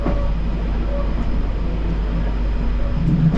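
A London Underground Central Line train runs with a loud, steady low rumble and rail roar from the cab, broad and continuous, swelling slightly near the end.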